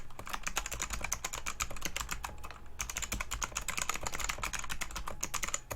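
Rapid, continuous key clicks from a Filco Zero keyboard fitted with Fuhua switches, close and crisp, with dense, even keystrokes and a brief pause near the middle.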